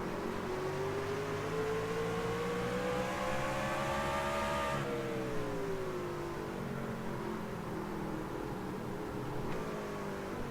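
Race cars in a PC sim racing series roar continuously at high revs, several engines layered together with rising and falling pitch as they jostle closely around the track, loud and steady throughout.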